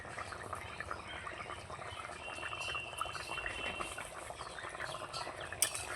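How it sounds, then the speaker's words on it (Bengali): Fish curry with bottle gourd and a sprinkle of garam masala being stirred in a pot, with quiet scraping and soft bubbling, faint and continuous, no talking. "যেহেতু গরম মশলাটা দিয়েছি, দেখুন একটু নাড়চাড় করে নিলাম"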